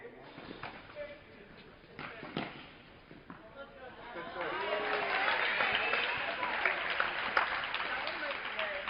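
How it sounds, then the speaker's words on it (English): Spectators at a women's college tennis match between Providence and Binghamton, a few scattered thuds and claps at first, then sustained crowd applause and cheering rising and holding, with commentators talking over it. "So you can hear the applause."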